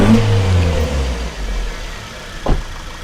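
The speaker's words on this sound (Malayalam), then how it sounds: "നമുക്ക് വണ്ടി റൈസ് ഒന്ന് നോക്കാം." A Maruti Ertiga car engine with one cylinder disabled revs up briefly, a loud, rough mid-pitched drone that eases off, heard close with no talking.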